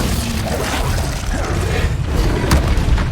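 A Glacius ice spell is cast in Hogwarts Legacy, producing a loud, dense rumbling boom with crackling, shattering texture during combat.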